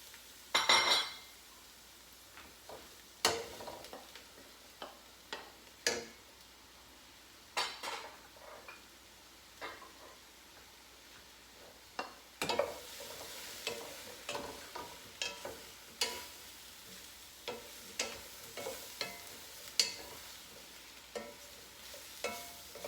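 Mushrooms being tipped into a hot pan for risotto, giving a soft sizzle broken by repeated close clinks and scrapes of a spoon stirring against the pan.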